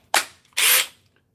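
A top-end DeWalt cordless power tool fires in two short bursts, a quick blip and then a longer whirring burst, close and loud in a quiet room.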